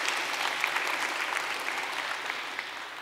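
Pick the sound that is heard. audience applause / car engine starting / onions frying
audience applause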